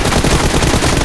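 Dense, sustained automatic gunfire in the video game PUBG, loud and continuous with rapid overlapping shots.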